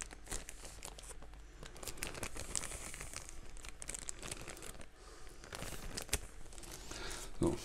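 Plastic bag crinkling close by while a BenQ EW3280U 4K monitor is unboxed; continuous rustling and crackling handling noise with sharp crunches throughout.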